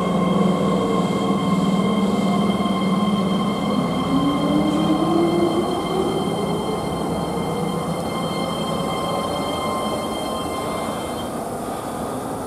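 Keihan line trains, including 8000 series limited expresses and 1000 series semi-expresses, arrive and depart at Sanjo station in Kyoto, a steady rumble of rolling carriages with a rising motor whine and ringing tonal hum throughout.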